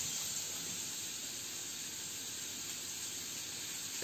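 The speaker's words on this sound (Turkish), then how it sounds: "Sonra kullanacağımız kadar kıymayı" Ground meat sizzles in an oiled frying pan, a steady broadband hiss holding at a constant level throughout, with no talking.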